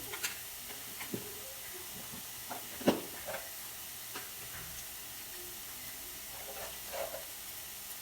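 Onions frying golden brown in a pan with turmeric for egg bhurji: a constant soft hiss of oil with occasional light taps and clicks of a spoon, quiet and close.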